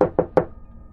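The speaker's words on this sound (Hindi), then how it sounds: "उसने घर का दरवाज़ा खटखटाया" A second round of knocking on a house door at night: three sharp, close raps in quick succession, followed by quiet.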